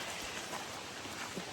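Rain falls steadily during a monsoon trek to Netgod falls, a soft, even hiss of drops with no voices, faint and continuous.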